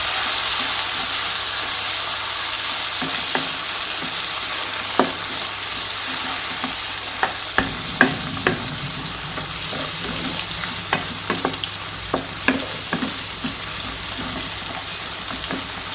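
Tomatoes frying and being stirred in a pot for chicken dum biryani, a steady sizzle under repeated scraping and clinking of a spoon against the pot.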